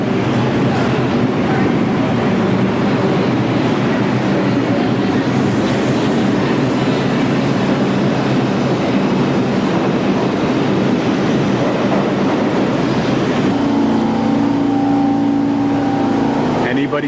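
A New York subway train rumbles loudly and steadily throughout, with rail noise and clatter filling the space, and voices talking faintly beneath; a tonal squeal or hum rises near the end.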